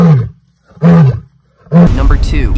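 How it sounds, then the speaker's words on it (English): A real lion roaring in a raspy, rough voice, three loud bursts separated by short pauses, the last one longer and harsher, heard close and alone. "Number 1. Lion."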